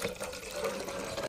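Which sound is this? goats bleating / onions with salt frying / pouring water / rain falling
pouring water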